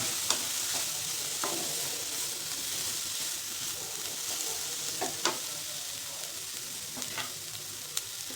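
Washed chivla greens tossed into a hot pan and stir-fried, giving a steady close sizzle with scattered scraping stir clicks throughout.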